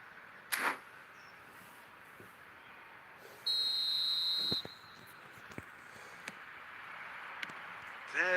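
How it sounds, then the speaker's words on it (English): A referee's whistle blows for kick-off in an eFootball 2026 match, a single sustained shrill tone of about a second over a low stadium crowd murmur, with brief sharp sounds before and after. "There's the whistle."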